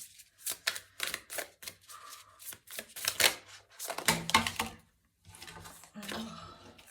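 Tarot cards being shuffled and drawn by hand, a close run of quick papery riffles, flicks and snaps in irregular bursts, with brief pauses between handfuls.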